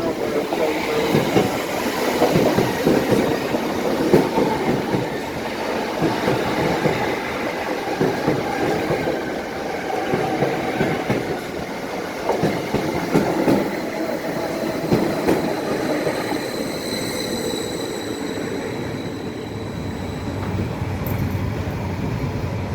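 A Class 745 train rolls along the rails with a steady, loud rumble and rhythmic clickety-clack. A faint wheel squeal rises near the end, and a quiet voice is present at times.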